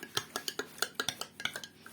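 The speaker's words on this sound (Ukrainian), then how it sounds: "беремо чайну ложку крохмалю і розчиняємо в півлітрі води" A metal teaspoon clinks rhythmically against the sides of a container, quick regular taps as starch is stirred into half a litre of slightly warm water, close and clear with no talking.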